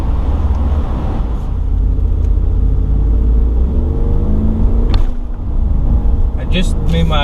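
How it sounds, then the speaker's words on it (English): A 2021 Ram 2500 pickup accelerates back up to highway speed after a U-turn, its steady engine rumble and road noise droning loud and close throughout, with talking over it. "I just made my U-turn, and I'm going to go ahead and get back up to 65 miles an hour"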